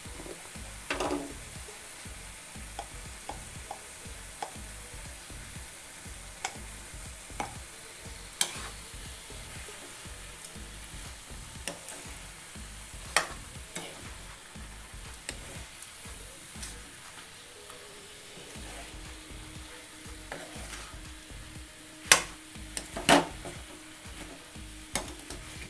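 Tomato, turmeric and salt frying in a pan for mutton pepper fry while being stirred, a steady sizzle under repeated scraping strokes with a few sharper clinks of the utensil against the pan.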